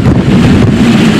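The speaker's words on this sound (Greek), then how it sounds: "The winds have begun to pick up." Strong hurricane wind roars steadily against the microphone along a United States coastline, a dense, buffeting rumble with no pauses across the short span and no voices.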